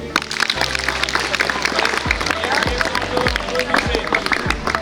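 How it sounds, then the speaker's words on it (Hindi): Schoolchildren in a village classroom clap in applause, a scattered burst of hand claps with chatter and a voice mixed in. "ताली बजा दो उसके लिए।"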